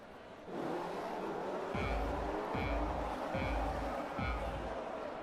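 F1 race cars in a video game launching off the start line, a loud dense engine roar climbing through quick repeated gear shifts, each upshift dropping the pitch before it rises again.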